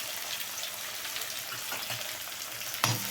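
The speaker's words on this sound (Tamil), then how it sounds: "நல்லா கடுகு வெடிச்சிருக்குங்க." Steady crackling sizzle of mustard seeds, onions and curry leaves frying in hot oil, seeds popping, continuous and close, with a brief sharper clatter near the end.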